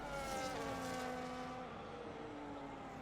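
F1 25 race cars scream down the straight at the Mexico City Grand Prix, a high engine whine rising and then fading as the cars pass, fairly faint, with no voices.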